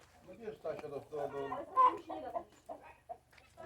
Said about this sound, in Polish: O, no przepiękny kogut.